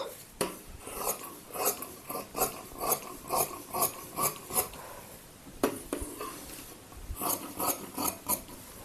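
Fabric shears cut the back panel of a blouse, producing a steady run of rasping, close snips in an even rhythm, with a short pause midway before the cutting resumes.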